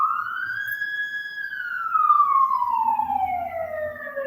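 An ambulance siren sweeps steadily in a long rising and falling wail, loud and fairly close, pitch dropping as it passes by on the road.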